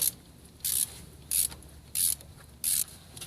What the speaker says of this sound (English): it's got to take a 10mm ratchet, go around and loosen up all the bolts holding the valve cover in place.